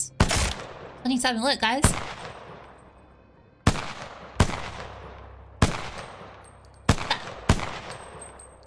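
Gunfire in the Apex Legends video game: sharp, loud single shots come at irregular intervals, each with a short decaying tail, and a brief burst of voice chatter sounds between the first shots.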